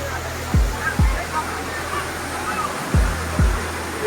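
Fast-flowing water rushing toward a waterfall in Purulia, a steady broadband roar under a crowd's murmur, with several low thumps at intervals.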